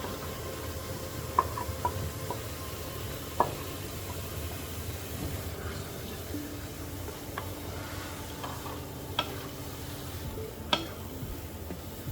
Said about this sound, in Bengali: মশলাটা কষানো হয়ে গেছে, আমি এখন চিচিঙ্গা উপরের চামড়াটা ফেলে কুচি করে ধুয়ে রেখেছি ওইটা দিয়ে দিচ্ছি।